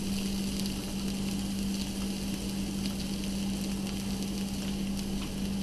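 Tofu burgers sizzle steadily in a hot pan, a constant close crackling hiss with a low hum beneath it and no talking.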